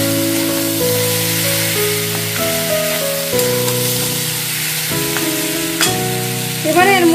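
Mung dal and ridge gourd cooking in an uncovered pan, giving a constant loud sizzle with occasional stirring scrapes and a clatter near the end.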